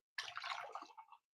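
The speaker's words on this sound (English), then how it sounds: "It sounds very much like it is a soda being poured" Soda-like liquid pours into a tiki punch drink, a brief fizzy, splashing stream lasting about a second, soft and close.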